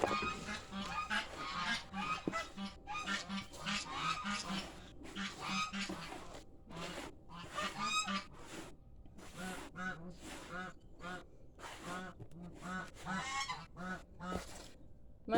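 Noisy pet geese honk over and over in dense, loud bursts close by, one call right after another for the whole stretch.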